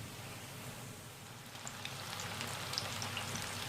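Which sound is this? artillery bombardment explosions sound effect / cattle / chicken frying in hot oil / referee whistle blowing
chicken frying in hot oil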